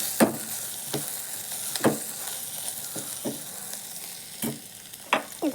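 Tomatoes frying with coriander, chili and turmeric powder as a spoon stirs them in the pan, a steady close sizzle broken by repeated scraping strokes at an uneven pace.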